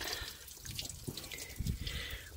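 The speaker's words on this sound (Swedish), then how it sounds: "Titta. Här kommer det vatten." Coolant water drips and trickles unevenly close by from a 1969 Commodore, with a few louder splashes toward the end over a soft broadband hiss.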